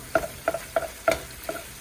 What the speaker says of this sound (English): You can see how my meat is getting a lot more brown than red. And I just keep chopping it up into little chunks.